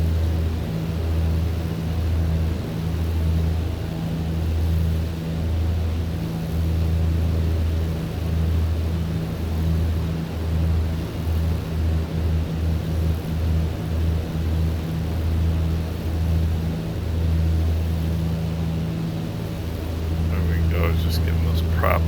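Twin propellers of an Islander plane in Microsoft Flight Simulator drone steadily from the cockpit, with a pulsing warble from unsynced props that beats rhythmically through the middle before smoothing out.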